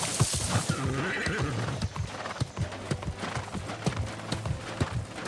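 A horse in the video game New World, its hooves clip-clopping in a steady rhythm with a whinny over the top, moderately loud and close, with no talk.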